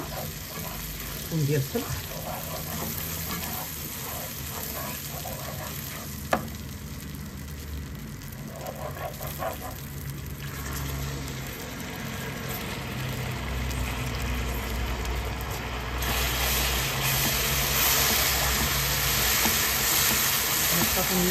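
Butter and cream sizzling in a hot pan, a steady frying hiss that grows slightly louder toward the end, while someone talks over it.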